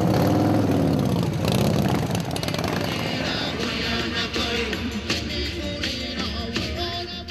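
Dense, loud engine roar of many motorcycles at the European Bike Week rally, a continuous rumbling mass of revving and idling engines with broadband clatter, steady throughout with no voices.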